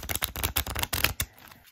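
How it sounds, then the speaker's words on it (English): A deck of Halloween-themed tarot cards being shuffled, a quick rhythmic run of crisp riffling flutters, close and clear, fading out at the end. "Let's go ahead and give this a shuffle."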